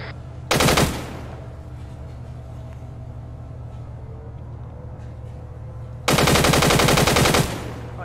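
Tank machine gun fire in the ArmA 3 military video game: two loud, sustained bursts of rapid automatic fire, the first short and the second longer, over a steady engine rumble with no voices.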